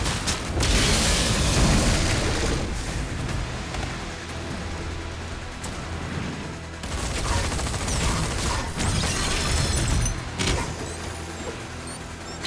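Rocket launcher explosions in Doom: The Dark Ages, heavy booming blasts piling into dense, continuous loud combat noise with crashing impacts throughout, and no talk.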